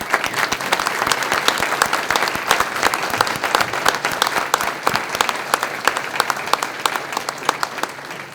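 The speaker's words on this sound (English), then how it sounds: "I would ask the audience members to provide a round of applause for all of the recipients" An audience at a police community relations award ceremony claps for award recipients, a dense, steady round of applause filling the room from start to end without any voices.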